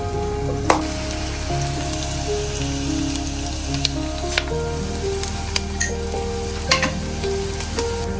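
Onions fry in a pan for a Kerala-style chicken curry, giving a steady, dense sizzle that lasts throughout. Occasional stirring clicks and a few small utensil taps sit on top, with nobody speaking.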